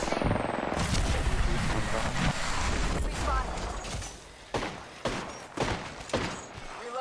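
Gunfire in Apex Legends on the Kings Canyon map: loud bursts of rapid automatic shots rattle through the first seconds, followed by several separate heavy single cracks, with a voice speaking partway through.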